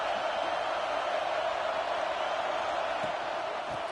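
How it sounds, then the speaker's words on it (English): A stadium crowd at a college football game between Oregon and Clemson roars in a dense, continuous wash of noise that holds steady throughout, with no breaks. "The roar of the crowd trying to fuel this defense to keep them pinned in their own end."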